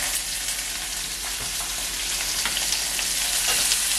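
Garlic, shallots and curry leaves fry in hot oil for garlic gravy, giving a loud, dense, continuous sizzle with faint crackles throughout and no talking.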